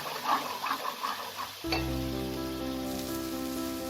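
Spice masala with Kashmiri red chili powder and salt being sautéed in a pan: a soft scraping stir first, then a sudden loud sizzle that settles into a steady, close frying hiss.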